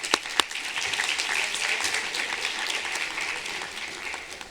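An audience at a 2021 senior awards night gives a round of applause, a sustained, moderately distant patter of many hands with a couple of sharper claps near the start, no talking over it.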